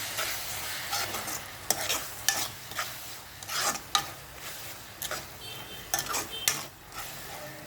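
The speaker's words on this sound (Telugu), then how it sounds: "అన్నీ వేసుకునే విధంగా కలుపుకోవాలి" Masala with chili powder and green chilies for drumstick curry stirred in a pan, soft sizzle under a run of clinking, scraping spoon strokes against the metal, fairly quiet and close.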